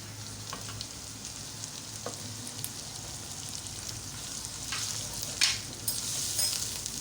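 Whole spices with coriander, garam masala and red chili powder roasting in a pan for a moringa flower dish, giving a steady soft frying hiss with faint scraping stirs and a louder burst near the end.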